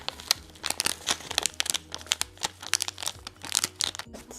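A sheet of paper towel is crinkled and handled up close, producing rapid irregular rustles and crackles in a busy stream of bursts.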